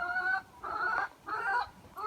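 A chicken clucks in three drawn-out bursts with short pauses between, close by and fairly clear, with no talking over it.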